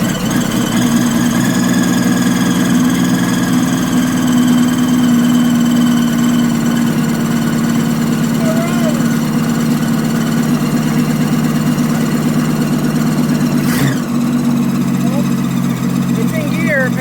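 A 1966 Ford Falcon engine runs steadily at a rough, lumpy idle, loud and close for the whole stretch, with a brief clunk near the end.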